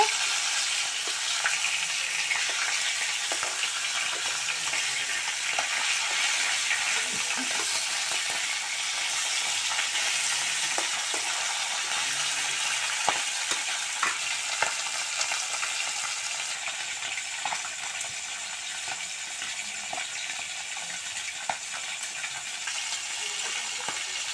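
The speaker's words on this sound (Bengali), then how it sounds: "এক পিসটা হয়ে গিয়েছে মাছ ভাজা" Rohu fish pieces fry in oil with a continuous bright sizzle and crackle, broken by small clicks and taps of a utensil as the pieces are turned.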